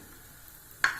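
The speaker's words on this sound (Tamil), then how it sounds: "உளுத்தம்பருப்பும் போட்டுடலாம்." Urad dal dropped into hot sesame oil in a kadai, giving a sudden loud burst of sizzling near the end after a quiet low background, with no talking.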